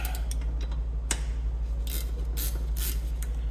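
Metal spanners, a 15mm and a 13mm, click and tick faintly as they turn a rear brake caliper bolt on an Alfa Romeo Giulietta. A few short scattered clicks sit over a steady low hum.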